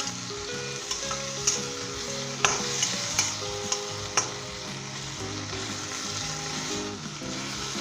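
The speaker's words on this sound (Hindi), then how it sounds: "और 5 मिनट के लिए हम इसे तेज़ आंच के ऊपर स्टर फ्राई करेंगे अच्छे तरीके के साथ" Capsicum chilli chicken stir-fried over a high flame sizzles steadily, with sharp spatula scrapes and clacks against the pan at irregular intervals and music playing softly underneath.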